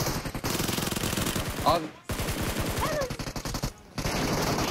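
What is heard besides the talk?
gunfire in the video game PUBG Mobile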